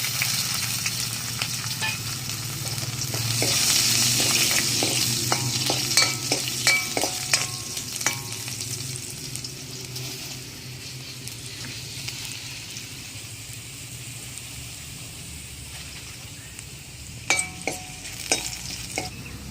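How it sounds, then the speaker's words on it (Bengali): Dried red chili, nigella seeds and chopped garlic crackle and sizzle in hot oil, a steady bright frying hiss with scattered pops and occasional clicks of stirring, close and alone without speech. "তেল গরম হয়ে গেছে আমি এবার শুকনো লঙ্কা আর কিছুটা কালো জিরে ফোড়ন দিয়ে দেবো এবার দিয়ে দেবো কেটে রাখা রসুন"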